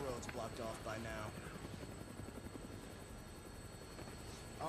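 An army helicopter in the game Dead Rising drones steadily with a rapid rotor chop, close and constant, as voices talk over it at the start and end.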